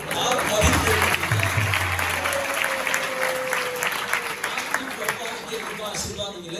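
An audience at an ISKCON gathering in Dwarka claps in a sustained, dense round of applause that runs the whole time, close and loud, with voices talking over it.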